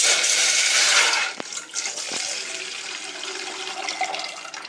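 Water pours from a vessel in a home kitchen while heating water, a loud rushing splash for over a second that drops to a softer, steady trickle and running-water sound.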